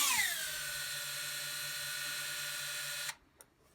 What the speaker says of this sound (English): Has a little bit different sound because these are ducted fans.